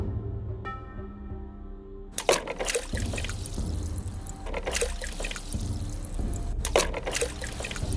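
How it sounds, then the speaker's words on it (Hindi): Two or three big stones thrown into a lake, landing with a sudden splash and then a sustained churning, trickling wash of water that runs on steadily, with a second splash-like burst near the end. "बंदर खूनी झील के किनारे जाकर 2-3 बड़े-बड़े पत्थर फेंकता है।"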